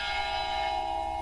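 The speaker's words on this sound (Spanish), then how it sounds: "Ya se oyen las campanas. Parece que doblan a muertos." Church bells tolling a slow death knell in a Spanish village, a steady sustained ringing tone that hangs continuously and fairly loud with no voices over it.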